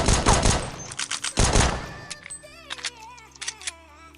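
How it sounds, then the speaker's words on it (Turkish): Weapons fire in Counter-Strike 1.6 with a CS:GO skin pack, including a USP pistol: sharp bursts of shots crowd the first second and a half, then sparser single cracks and clicks sound over faint music-like tones. "mermi sesi falan hepsi var arkadaşlar"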